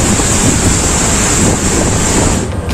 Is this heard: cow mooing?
no